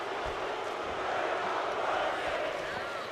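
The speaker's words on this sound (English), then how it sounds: "the crowd chanting, "We're not worthy,"" Dense roar of a wrestling arena crowd chanting in the WWE 2K25 video game, a steady wall of massed voices at an even level throughout.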